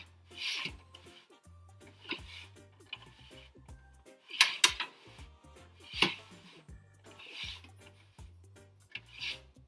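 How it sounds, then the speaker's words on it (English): A knife cuts downward at an angle along the top of a tart tin, trimming pastry crust for a quiche. Sharp ticking scrapes and taps repeat irregularly and close by in an otherwise quiet room. "I just take my knife at an angle and I cut downwards"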